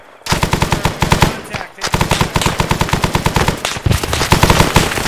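Rapid automatic gunfire from a platoon firing on a ridge top, a long loud burst of tightly spaced shots that pauses briefly, then resumes and continues steadily to the end.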